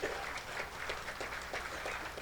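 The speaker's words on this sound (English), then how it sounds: "let's have another round of applause for Riley and Ota" Steady applause from a dinner crowd at an annual banquet, many hands clapping in an even, sustained wash at moderate distance.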